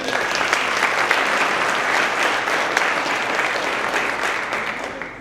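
Office staff at a monthly company celebration applaud together, a steady sustained round of clapping from a roomful of people that tapers slightly at the end.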